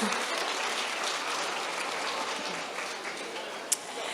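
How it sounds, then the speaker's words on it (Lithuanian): An audience at a panel discussion on teachers claps to welcome a participant, steady dense applause running throughout, with one sharp clap near the end. "Pasitikim plojimais."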